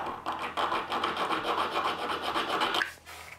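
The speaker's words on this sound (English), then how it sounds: "gonna file it up a little bit, clean it up" A metal file rasps across the freshly cut end of a threaded rod in a small home workshop, close continuous scraping strokes in an even rhythm before stopping.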